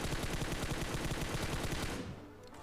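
A rapid, loud burst of automatic gunfire in a video game fires close and continuously for about two seconds, then stops abruptly, leaving faint echoes.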